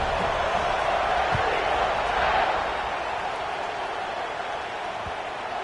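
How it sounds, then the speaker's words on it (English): A stadium crowd at a college football game, Oklahoma Sooners against Auburn in a video game, buzzes as a steady, dense roar that swells briefly and then eases slightly, with no distinct voices standing out. "this crowd is buzzing after that last score"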